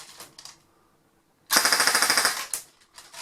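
An LCT AK airsoft rifle fires 0.28 gram BBs in a fast full-auto burst of about a dozen sharp, evenly spaced clicks at close range, followed by a few single shots.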